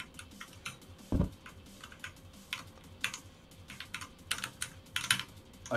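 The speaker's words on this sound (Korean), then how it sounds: "키보드가 잘 안 먹어" Typing on a computer keyboard during a gaming session, with scattered clacking keystrokes in irregular bursts and one heavier thump, close and fairly quiet with no speech.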